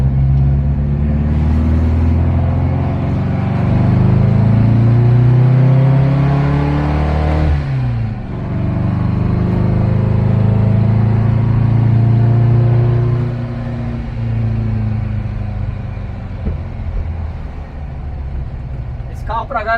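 A VW Brasilia fitted with a 1900 engine revs hard up through the gears, its loud, close exhaust note rising in pitch, dipping at a gear change, then climbing again and settling into a steady drone.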